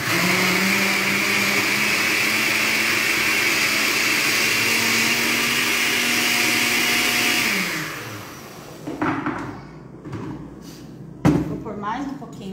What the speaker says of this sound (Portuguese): Aqui tá meu liquidificador. Vou liquidificar.